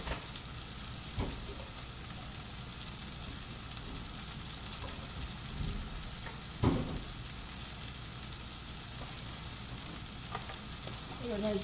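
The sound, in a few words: dried coconut roasting in a pan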